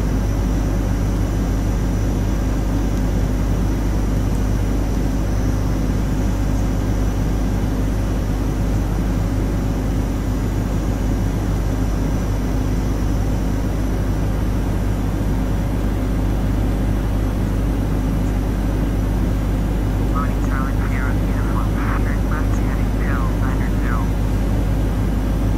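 A Boeing 727-200 cruises in flight in FSX, giving a steady, loud cabin drone of jet engine noise that holds constant throughout, with faint chirps near the end.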